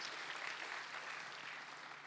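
A church congregation claps steadily through a worship service, a faint, even wash of applause from a hall with no voices rising above it.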